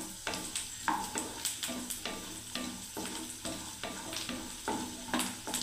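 A spatula scrapes and stirs garlic frying in a pan for garlic bharta, rhythmic strokes about once a second over a constant sizzle.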